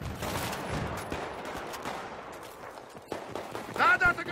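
AEK-971 assault rifle firing in the video game Battlefield 3, rapid automatic bursts and distant battle noise under someone talking, with louder shots near the end.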